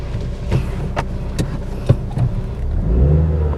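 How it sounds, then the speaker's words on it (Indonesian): A used Nissan Latio sedan, a former taxi, pulls away on a test drive, its engine rising in a moderate rev heard from inside the cabin, with faint clicks and a steady hum that builds toward the end. "sekarang kita tes jalan yuk mobilnya"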